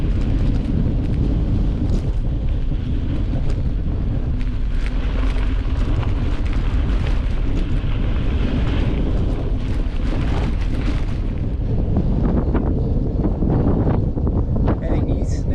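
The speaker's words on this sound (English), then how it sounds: "Plus a really strong headwind." Strong wind buffets the microphone in a loud, continuous roar while cycling a road out into the wilderness, with gusty surges and a low rumble throughout.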